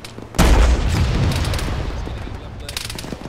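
A rocket launcher fires in the military game Arma during a ShackTac session: one sudden, loud, close blast followed by a long rumbling tail that slowly fades.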